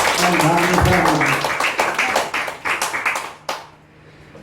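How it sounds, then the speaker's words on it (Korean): A church congregation claps together during a Sunday worship service, a dense wash of hand claps mixed with voices that thins out and stops near the end. "하나님께 영광의 박수 올려드리겠습니다"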